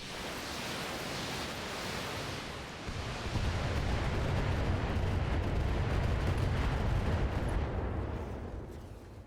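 A missile barrage slams into a mech in the BattleTech game, a dense roaring rumble of overlapping blasts that builds and sustains for several seconds before tapering off.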